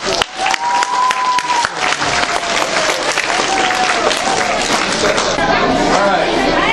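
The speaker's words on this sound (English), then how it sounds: "give him a round of applause" A school assembly crowd claps and cheers loudly for a guest speaker at an anti-drug event. Chatter and voices mix in, a high whistle-like tone rises briefly early on, and the noise stays strong throughout.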